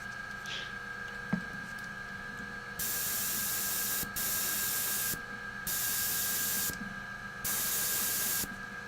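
Aerosol spray can priming Warhammer 40k Space Marine Primaris Suppressor miniatures with black primer, heard as four loud sustained hissing bursts of about a second each, separated by short pauses, after a quiet start.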